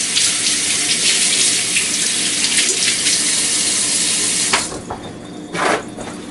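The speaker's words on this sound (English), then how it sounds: "I'll give my hands a quick wash" Water from a kitchen tap runs in a steady, loud, close gush while flour-covered hands are washed after making blueberry scones, then drops away sharply and comes back briefly near the end.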